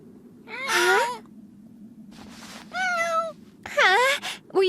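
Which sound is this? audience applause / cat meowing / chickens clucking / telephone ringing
cat meowing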